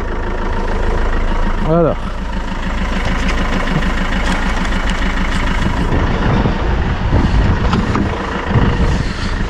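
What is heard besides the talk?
Renault Master diesel engine idling after starting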